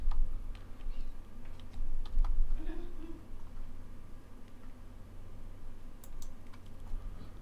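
Keyboard shortcut keys tapped on a computer keyboard while editing photo metadata in digiKam, a few quiet scattered clicks with a faint voice briefly in the background.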